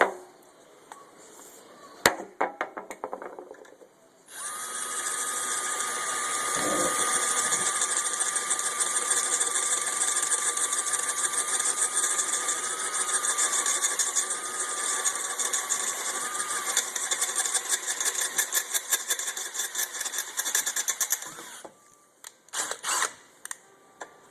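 A motorized drill boring a hard hole while fitting a Yoshimura exhaust to a Yamaha R6 runs steadily for most of the clip, a loud continuous whine that wavers slightly in pitch, with clattering and crackling around it.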